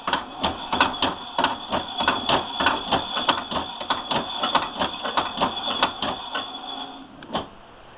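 A Singer Model 66 sewing machine winds a bobbin with a steady, fast clatter of mechanical ticks that runs at close range throughout, then fades near the end.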